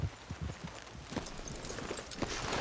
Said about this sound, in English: It's my horse!